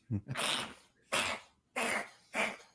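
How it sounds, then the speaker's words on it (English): Four harsh, explosive coughing bursts from a cat, each about half a second long, spaced roughly evenly with short quiet gaps between them, close to the microphone. "my cat is coughing up a storm here"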